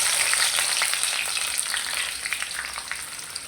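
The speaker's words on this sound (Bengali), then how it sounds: "পেঁয়াজগুলো ভালো করে ভেজে নেব" Chopped onions frying in hot oil, a dense continuous sizzle with crackling pops, close and steady, gradually easing toward the end with no talk.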